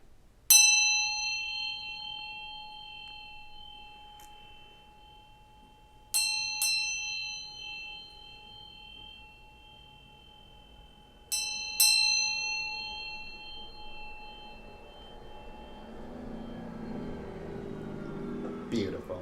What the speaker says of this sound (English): I'm going to ring this bell here, get some high vibrations